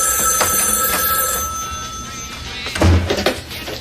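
A telephone rings in an animated 1993 scene, a bright electronic trill sounding first steadily and then in a few louder bursts over a low background.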